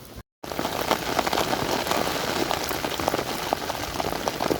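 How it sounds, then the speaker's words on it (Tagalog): Heavy rain pours steadily onto surfaces in a coastal area after a typhoon, a loud, dense and continuous hiss with scattered drop impacts and no voices. "May busok-busok yan, lakas ng ulan."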